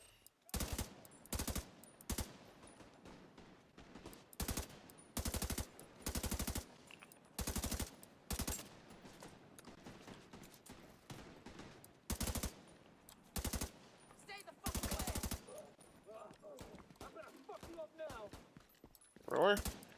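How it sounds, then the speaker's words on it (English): Rapid bursts of game gunfire, sharp and loud, crack out in repeated volleys with short gaps, while a voice talks quietly underneath. "So again, hear some gunshots there."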